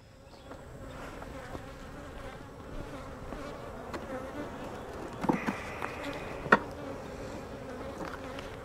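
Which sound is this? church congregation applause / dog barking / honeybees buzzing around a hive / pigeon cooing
honeybees buzzing around a hive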